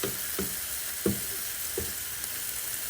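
Sausage-infused smashburger and onions sizzling on a camp griddle, a constant close hiss of frying fat with a few soft spatula scrapes and knocks in between.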